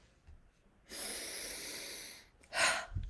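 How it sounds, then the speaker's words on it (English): A person draws one long, deep inhalation lasting over a second, then lets out a short, forceful exhale. The breathing is close and clear against a quiet background, with no speech. "Stop, take a breath"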